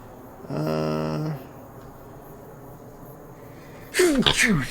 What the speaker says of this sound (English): Had to sneeze again.